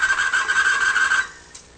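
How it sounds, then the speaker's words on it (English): An air conditioner motor grinds and rasps loudly as it locks up under about 15 to 16 pounds of torque, a harsh sustained scraping that cuts off abruptly after about a second. "About 15, 16 pounds of torque, and we can lock up that motor. Tremendous amount of noise at the same time."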